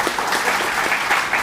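An audience at a lecture claps steadily, a dense close patter of many hands sustained throughout without any voices.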